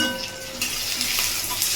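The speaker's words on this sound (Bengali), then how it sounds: "দিয়ে পেঁয়াজটাকে আমি ভেজে নেব।" Onions frying in hot oil with salt, turmeric and chili powder, a steady close sizzle with occasional stirring scrapes throughout.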